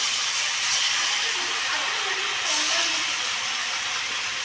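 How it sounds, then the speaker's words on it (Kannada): Spiced snacks coated in cornflour batter with chaat masala and garam masala fry in hot oil, giving a steady, close, loud hissing sizzle that runs unbroken throughout. "ಇದು ಎಣ್ಣೆ ಬಿಡಾಕತ್ತೇವೆ ರೀ"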